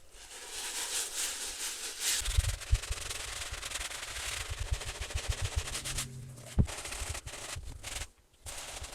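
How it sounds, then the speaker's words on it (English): Brush scrubbing a very dirty suede sneaker with cleaning solution, giving continuous rough rapid strokes that are close and fairly loud, with a few sharp knocks near the end. "And then we're just going to start brushing."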